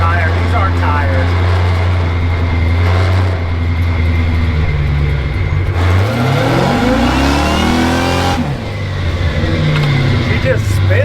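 A car's engine revs hard and holds a loud drone as its tires spin, the pitch rising and falling through several surges, close and dominant throughout.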